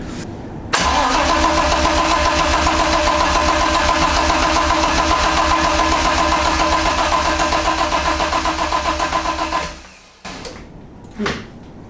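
A BMW E30 with a swapped M52B28 engine cranks on the starter for about nine seconds in a steady loud rhythmic churn without catching, then stops, leaving a few faint clunks.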